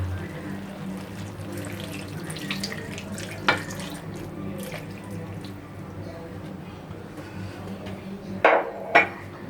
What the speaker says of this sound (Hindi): अब हम इसके ऊपर आधा कप पानी डालेंगे